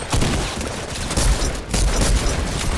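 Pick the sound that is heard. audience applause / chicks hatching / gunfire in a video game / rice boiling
gunfire in a video game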